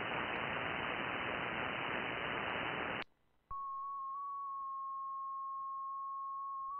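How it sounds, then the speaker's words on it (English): Loud hissing white noise from a 2-meter amateur radio receiver fills the first three seconds, cuts out abruptly, then gives way after a short silence to a steady, slightly wavering tone. "So here's just the receive white noise here."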